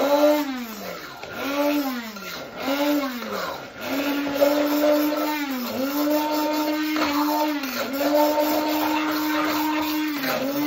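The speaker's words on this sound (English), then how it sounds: "I'm going to use a blender, just a blending stick here." A hand blender whirs in repeated bursts while blending herb oil, its motor pitch sliding up and settling, loud and close, with some speech between pulses.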